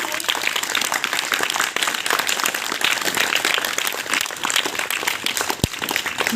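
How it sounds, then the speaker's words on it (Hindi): A gathered audience at a yoga session at MDU Rohtak gives a long, dense round of applause. It is a steady wash of many hands clapping, fairly loud, with faint voices underneath. "एक बार जोरदार तालियां हो जाए।"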